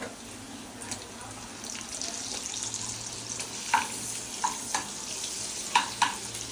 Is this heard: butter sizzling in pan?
yes